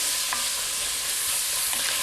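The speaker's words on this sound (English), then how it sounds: "Like I said, you don't want to get a whole lot of color on it, just sweat them nicely." Vegetables sweat in a pan for red beans and rice, a soft continuous sizzle with a couple of light stirring scrapes, close and without talk.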